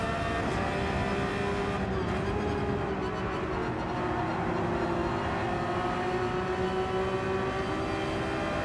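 A Ferrari race car engine in the Gran Turismo 7 video game drones at a steady pitch during a daily online race, a sustained tonal whine that holds and shifts slightly, moderately quiet and without speech.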